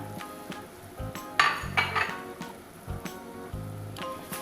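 Freshly ground spice paste goes into a simmering pot of vegetable lodeh with moringa leaves and pumpkin. Utensils clink and scrape against the pot, and soft sizzling and stirring sounds come between the knocks.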